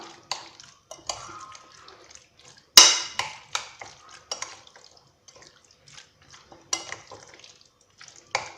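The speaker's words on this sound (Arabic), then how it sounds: "اذا نخلط المقادير مليح" Chicken being tossed with shawarma marinade ingredients in a bowl makes scattered clinks and wet squelching knocks, with one sharp clatter early on and irregular stirring sounds after, fairly close.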